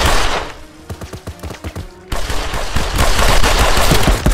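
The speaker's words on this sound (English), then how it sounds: "You have a machine gun again." Automatic gunfire in the VR multiplayer shooter Contractors: rapid bursts of loud machine-gun shots, sparse at first and then a dense, sustained rattle of overlapping rounds with no talking.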